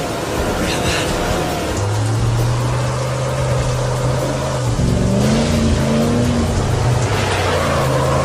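A car engine droning steadily in a dramatized audiobook scene, rising in pitch as it revs partway through, under continuous narration.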